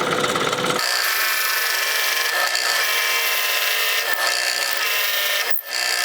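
A power drill bores steadily into wood while a pipe is being made, a loud, continuous, close whine that lasts the whole stretch with only a brief dip near the end and no talking over it.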